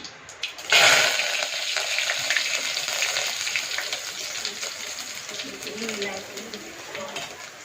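Curry leaves hit hot oil for kadhi with a sudden loud burst of sizzling that settles into a steady crackle, while a voice talks over it.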